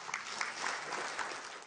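Brief, dense applause from an audience of chiefs at a First Nations assembly following a speech by Philpott, steady clapping throughout the short moment.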